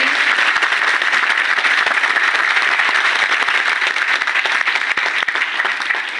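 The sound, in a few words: seminar audience clapping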